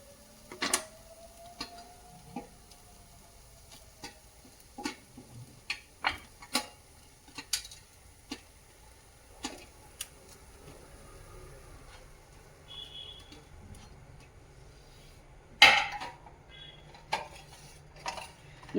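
Cooked paddu being lifted out of a paddu pan one by one, giving a string of light metallic clicks and taps, irregular and close, over a quiet background with one louder clatter near the end.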